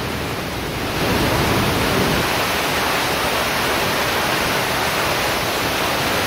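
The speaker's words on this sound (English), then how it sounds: "This is me at that same waterfall that we talked about." Tegenungan waterfall in Bali roars as a steady, dense wash of broadband water noise, loud and continuous throughout with no voices.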